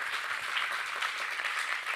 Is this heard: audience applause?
yes